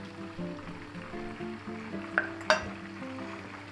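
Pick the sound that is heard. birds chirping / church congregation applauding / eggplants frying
eggplants frying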